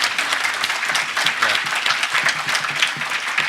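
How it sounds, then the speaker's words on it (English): Dense, steady audience applause fills a conference hall at a hacker convention, many hands clapping continuously and evenly at full strength from start to finish. "let's just hear a round of applause for Miloš"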